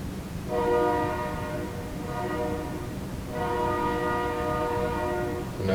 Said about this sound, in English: I don't know if you can hear a train coming through